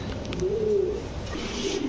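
Pigeons offered for sale, including imported pairs sold with eggs, give a clear nearby coo, a low throaty warble rising in the middle of the brief moment with faint background noise.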